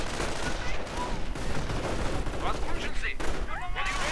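MG42 machine gun fire rattles in a video game battle, with dense overlapping bursts and other gunfire running continuously under a busy mix of game effects.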